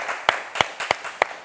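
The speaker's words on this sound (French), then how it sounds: "Je pense que ça s'applaudit" A few sharp hand claps, about five, spaced unevenly over a second and a half on a TV show set. They sound sparse rather than like a full audience.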